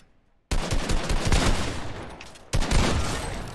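Gunfire from a small pistol in the Fortnite battle royale game, a loud burst of rapid shots after a brief silence, pausing momentarily and then resuming with another dense volley.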